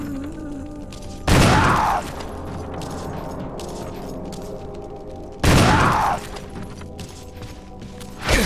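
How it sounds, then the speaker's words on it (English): Two heavy shotgun blasts from Resident Evil HD Remaster, about four seconds apart, each a loud broadband boom with a short decaying tail over a low, steady game ambience. "Shotgun time."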